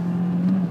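A Fiat Panda 100HP engine holding a steady 4,500-5,000 rpm, a continuous droning hum with a slight rise and dip.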